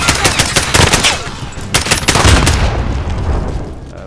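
Rapid machine gun bursts crackle in Call of Duty Modern Warfare, loud and close, with sharp repeated shots in quick clusters that trail off into a fading echo.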